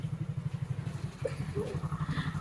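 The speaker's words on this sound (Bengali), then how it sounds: "আরে দেখো মোটরসাইকেলটা চলে এসছে" A motorcycle engine putters nearby with a steady, rapid low thumping rhythm, idling or rolling slowly past at a street spot beside a kulfi stall.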